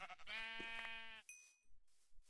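A single sheep in the video game Minecraft gives one loud, wavering bleat lasting about a second, followed by a short high chime and a few soft low thumps.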